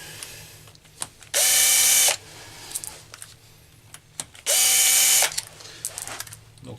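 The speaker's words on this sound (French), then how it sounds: "je visserai ça, mais avec le couple minimum de la perceuse" Cordless drill on low torque driving screws into the clutch of a BMW K1200 GT motorcycle: two loud, close whirring bursts of under a second each, separated by quieter clicks and handling of parts.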